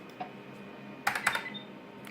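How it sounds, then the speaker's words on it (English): Keys clack on a white Alps dome-with-slider keyboard, one soft tap followed by a quick burst of three or four close, crisp keystrokes in a quiet room. "this is a dome with slider keyboard, so not really mechanical"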